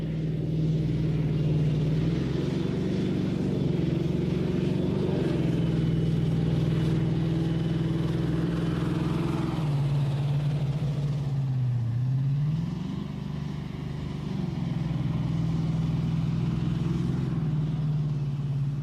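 An AS-90 self-propelled howitzer with hydrogas suspension drives at speed, giving a steady, loud, close engine and track rumble that dips briefly midway and then resumes.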